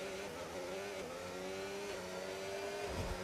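Race car engines in a sim racing game at the Singapore circuit, a continuous high-revving whine rising and dipping through gear changes as cars run close together, steady and moderately loud.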